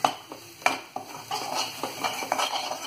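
Mutter paneer masala is stirred and roasted in a pan, with a spoon clinking and scraping against the metal in repeated close strokes over a soft sizzle.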